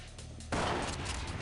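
Gunfire in the tactical shooter game SWAT 4: after a quiet background, a sudden loud shot bursts out and its harsh rumble lingers briefly.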